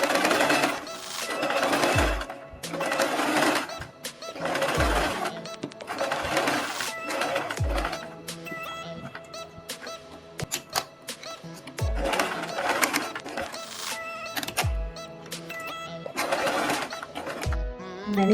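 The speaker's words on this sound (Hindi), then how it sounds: "हम अब इनके ऊपर सिलाई लगाएंगे" A sewing machine stitches fabric strips for a beaded moti neck design in repeated loud whirring bursts separated by short pauses, with a low thump as each run starts.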